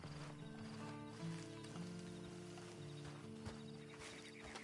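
In the video game Red Dead Online, a horse's hooves clip-clop in a steady walking rhythm over a low game ambience with tonal hum, faint and continuous across the scene.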